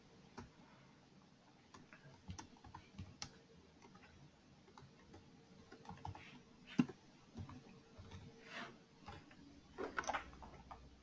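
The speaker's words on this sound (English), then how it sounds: "my next course of action is to type in the first name" Quiet, irregular keystrokes on a computer keyboard come in short bursts and scattered single clicks, with a few sharper taps near the end.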